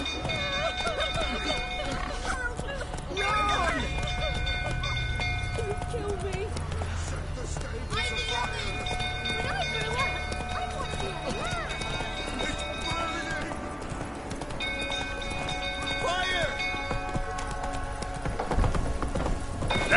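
Roach the horse gallops in The Witcher 3, rhythmic clip-clop hoofbeats with an occasional whinny running under game music and a voice urging the horse on.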